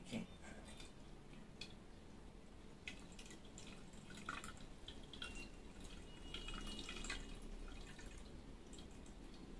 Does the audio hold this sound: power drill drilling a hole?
no